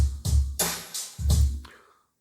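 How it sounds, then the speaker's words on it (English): Chopped drum loop beefed up into a fat breakbeat: heavy booming kicks and bright crashing snare hits in a punchy, syncopated pattern, loud and alone, ending in a short decaying tail. "I fattened it up and made it sound like, you know, a really fat breakbeat that sounds like this."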